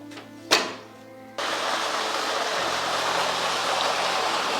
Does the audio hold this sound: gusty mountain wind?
no